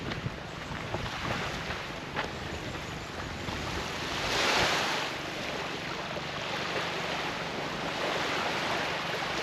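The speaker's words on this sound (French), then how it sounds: "Encore une nouvelle plage." Waves washing onto a beach at Koh Mak, Thailand, a broad steady roar of surf with wind buffeting the microphone and a swelling crash midway.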